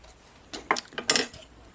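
Scissors snip through paper while cutting out a V shape for a fall and Halloween craft: a few short, close crisp cuts in a quiet room, with no talking.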